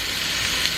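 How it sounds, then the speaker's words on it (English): Steaks sizzle in a frying pan alongside Brussels sprouts and radishes, a steady, close hiss filling the whole short moment with no voices over it. "just going to flip the steaks over"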